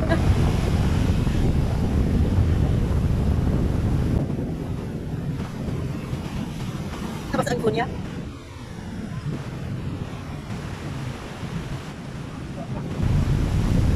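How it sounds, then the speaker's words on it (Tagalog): Ocean surf rolls and hisses loudly on a beach in Cancun with wind rushing across the microphone; a voice speaks briefly partway through. "ayan na naman ang alon"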